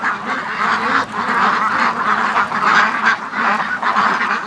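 A flock of ducks honking and quacking continuously nearby on a warm night as they are herded in to roost, a dense chorus of calls with no talk over it.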